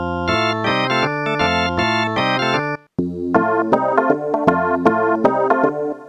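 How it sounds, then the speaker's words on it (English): A Casio VA-10 keyboard's bright electric organ tone plays chords in a steady rhythm, stops briefly, then a melody with sustained keyboard notes resumes, loud and close. "Electric organ, for example."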